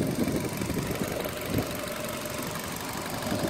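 A Nissan Qashqai+2 1.6 Acenta engine idles nearby with a steady, slightly knocking mechanical rumble and no voices.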